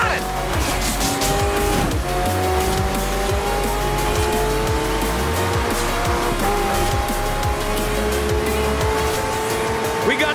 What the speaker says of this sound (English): The most incredible hypercars are all here.